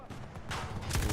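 A PKP machine gun fires in Battlefield 2042, a short rapid burst of gunfire mixed with background battle noise.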